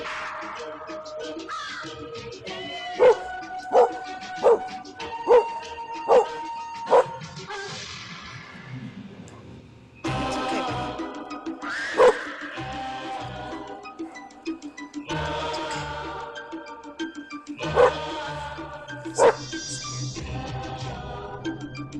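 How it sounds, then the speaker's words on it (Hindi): A dog barks loudly at night in a quick series of sharp, evenly spaced barks, followed by more scattered barks over a noisier background. "फिर एक रात उनका डॉगी जोर जोर से भौंकने लगा"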